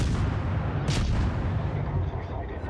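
Naval ship guns boom continuously in World of Warships, a heavy, dense rumble of artillery fire close and loud, with a sharp burst cutting through near the middle.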